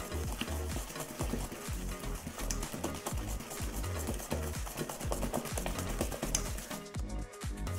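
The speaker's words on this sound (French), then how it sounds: "Et je vais venir mélanger au fouet environ 4 minutes, voire moins" A whisk stirs a Philadelphia cream cheese and white chocolate mixture for a Speculoos cheesecake, producing steady, rapid scraping and tapping strokes against the bowl that continue without a break at close range.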